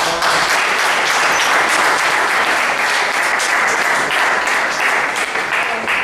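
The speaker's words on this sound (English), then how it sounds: "please applaud me, applaud them as well with me" Loud, sustained audience applause at the Hokies' end-of-season ceremony, a dense wall of clapping that stays even and close throughout the whole stretch, with crowd voices faintly mixed in.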